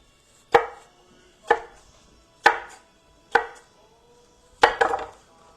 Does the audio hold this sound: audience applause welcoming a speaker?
no